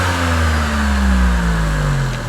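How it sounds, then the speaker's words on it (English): A Tata Altroz Racer hatchback's engine revs up loudly with a deep, throaty exhaust rumble, pitch sweeping down steadily, close and continuous. "It's a bit louder when you're revving it also."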